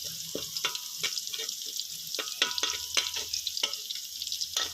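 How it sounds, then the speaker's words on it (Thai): Garlic stir-fries in oil for a straw mushroom and oyster sauce dish, a steady close sizzle broken by repeated sharp clacks of a spatula against the pan. "ใส่กระเทียมผัดให้หอมเลยนะครับ"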